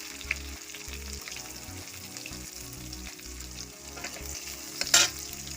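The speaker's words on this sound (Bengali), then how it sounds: "আমি দুটো তেজপাতা দুটো শুকনো লঙ্কা এলাচটাকে দিয়ে দিচ্ছি" Bay leaves, dried red chillies, cardamom and onion frying in oil for potol dorma, a soft steady sizzle with repeated low scraping stirs and a sharp clatter near the end.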